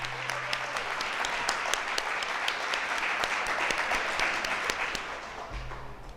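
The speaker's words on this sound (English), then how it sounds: "We can clap again for the children and Miss Garvin." An audience at a mayor's State of the City address applauds children after a sung anthem, a steady wash of clapping with sharp individual claps standing out, easing off near the end.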